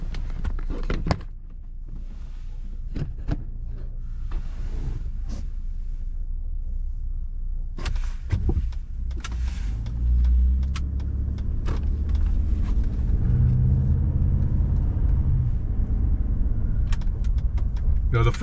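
A 2017-or-later Ford F-150 pickup with the 3.5 EcoBoost engine, fresh oil and in sport mode, drives on dry roads, a steady loud engine and road rumble with scattered clicks and cabin rattles.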